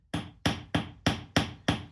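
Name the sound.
hammer tapping iron knife blade during hammer hardening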